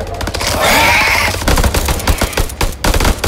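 Rapid bursts of automatic gunfire from the horror video game House of Ashes, a loud volley that trails into scattered sharp shots over about three seconds.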